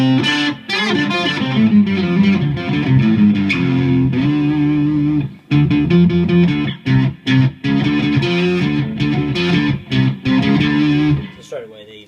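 Electric guitar through a NUX MG-200 modeling processor on a metal octave preset, heavily distorted with a low octave doubling like bass and guitar in unison, playing a loud continuous riff with brief stops and a final decaying chord.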